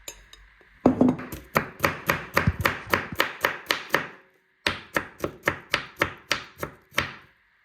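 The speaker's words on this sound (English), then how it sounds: "So I've just chopped my onions into tiny little squares." A knife chops onions into tiny squares on a board, with a rapid, even run of sharp knocks, a brief pause, then another steady burst, close and crisp.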